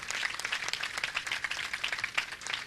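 Audience applause at a Jain religious discourse gathering, many hands clapping in a dense, crackling patter that swells in uneven bursts, moderately distant with no speech.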